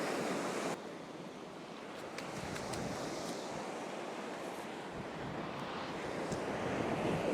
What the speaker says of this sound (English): Wind is a little bit blustery